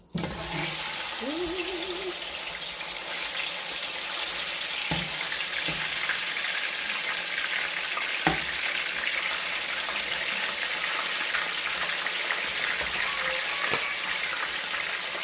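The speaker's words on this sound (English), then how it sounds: "I'm gonna fry them in parts of 2, so that way, you know, it can be more crispy" Korean BBQ chicken wings deep-frying in hot oil, a loud continuous close hiss and crackle that bursts in at the start as the batch goes in, with a few faint clicks and knocks.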